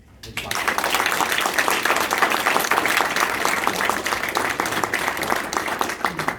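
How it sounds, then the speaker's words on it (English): A round of applause fills a National Guard award ceremony honoring a retired command sergeant major, with steady, dense clapping from a crowd that starts abruptly and holds at an even loudness throughout. "I'm just going to give him one more round of applause for all he's done for the organization"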